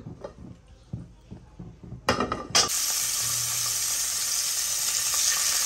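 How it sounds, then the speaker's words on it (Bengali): Quiet clinks and movement, then a sudden loud sizzle as rohu fish pieces hit hot oil, settling into steady low-heat frying that continues to the end. "এখন এই মাছগুলো আমি একটু অল্প আঁচে হালকা করে ভেজে নিচ্ছি।"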